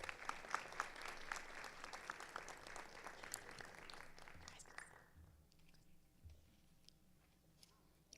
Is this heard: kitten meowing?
no